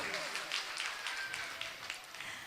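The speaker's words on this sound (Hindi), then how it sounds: "एक बार जोरदार तालियां उनके लिए।" Audience at a women's association event applauding a local councillor, a soft patter of many hands clapping at a moderate distance, unevenly and without a clear rhythm.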